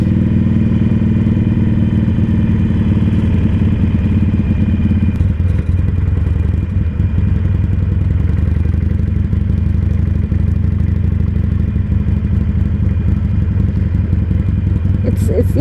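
A Harley-Davidson Iron 883 Sportster motorcycle on a ride: a loud, continuous low engine rumble that holds steady throughout, with slight shifts in tone partway through.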